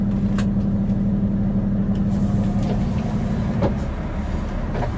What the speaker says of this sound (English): Truck's doing a regen, so that's revving like anything.